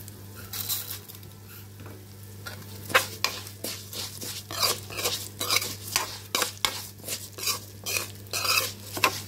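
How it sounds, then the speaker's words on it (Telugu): Green chilies fry in a pan while a utensil stirs them in repeated scraping strokes, each rough swish rising over a low, steady sizzle, close by with no talking. "కొంచెం పచ్చిమిరపకాయలు పోయి మంచి స్మెల్ వచ్చేదాకా ఒక 2 నిమిషాలు వేయించుకోండి."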